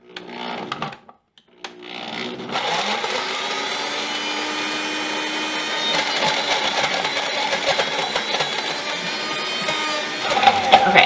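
A blender purees frozen banana for a peanut butter dessert, a steady loud motor whir and churning after a couple of brief starts, running continuously to the end.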